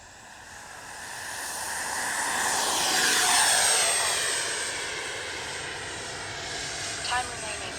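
The twin 64mm ducted-fan engines of an Arrows RC MiG-29 model jet whine and roar as it takes off and passes close, rising to a peak and then fading into the distance with a steady high hiss.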